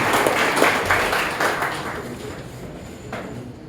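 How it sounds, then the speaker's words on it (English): Audience at a town meeting in Springfield, Ohio applauds, a steady wash of clapping that is loud at first and gradually thins and fades over a few seconds, with no talking. "give this man a round of applause"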